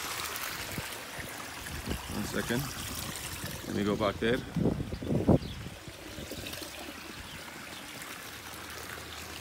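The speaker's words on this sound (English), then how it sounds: "the pump is pulling water from the cold water from the pool" Cold swimming pool water pumped through a connected hose, flowing in a steady wash beneath someone talking throughout.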